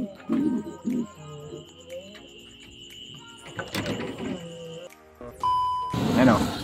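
Pigeons cooing outdoors near a loft of racing pigeons, soft repeated low coos mixed with other bird calls and chirps, with people talking over them and a brief louder rustle near the end.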